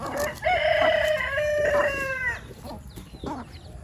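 A rooster crows loudly and close by, followed by scattered clucking from nearby chickens.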